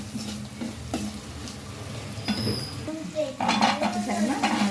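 Potatoes going into a hot pan for an eggplant and potato curry, with a constant sizzle under scraping spoon strokes and metallic clinks against the pan, growing busier toward the end; no one speaks.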